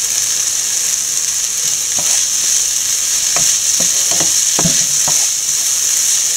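Curry leaves frying in hot ghee in a pan for aval upma, a steady bright sizzle throughout with a few sharp crackles and pops as they hit the oil.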